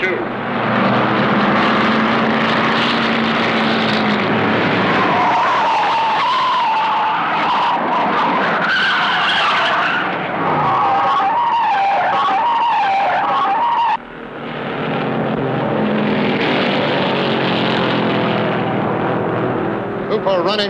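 Late-1950s stock cars, including a '59 Oldsmobile and a '58 Ford, roar around a race track flat out. Loud engines and tire squeal run continuously, with a brief dip partway through, under excited race commentary.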